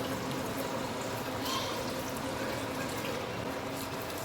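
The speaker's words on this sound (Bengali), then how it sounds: "কলের থেকে একটু পানি দেই," Water runs from a kitchen tap while a Bengali vorta is being made, a steady, continuous rushing pour that stays fairly quiet and even throughout, with no talk over it.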